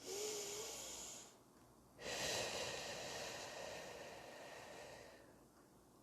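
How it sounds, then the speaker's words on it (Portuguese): A person takes a slow, deep breath in and then lets it out gradually during a guided breathing exercise, close and airy, with a short pause between inhale and long exhale. "Fechem os olhos e vocês vão tomar uma respiração profunda."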